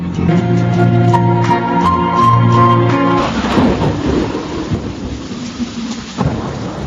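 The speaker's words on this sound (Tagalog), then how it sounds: "Lalong lumalakas ang ulan" Rain pours down with rumbling thunder, starting under a sustained musical tone that cuts off midway, leaving steady loud rainfall with a thunder swell near the end.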